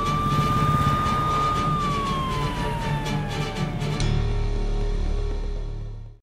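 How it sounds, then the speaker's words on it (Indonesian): An ambulance siren: a loud, sustained wailing tone that glides slowly downward as the vehicle seems to pass, over a rumbling traffic and engine bed that continues after the wail fades. "Dengan menggunakan ambulans, Sikandar pun membawa Kamini ke rumah sakit untuk diperiksa penyakitnya"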